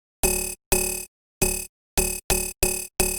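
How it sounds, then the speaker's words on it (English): Short plucky dubstep synth notes with low sustain and decay, shaped by a comb filter, play alone as seven evenly spaced, bright, buzzy hits separated by short silences. "I lowered the sustain and the decay, so I get this plucky sound."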